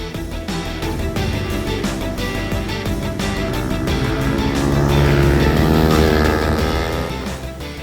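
Racing motorcycles, Yamaha YZF-R 125 machines of about 18 horsepower, in an endurance race at the Muret circuit, roar loudly and continuously, with engine pitch climbing and shifting as bikes pass close by, building to a peak before easing slightly.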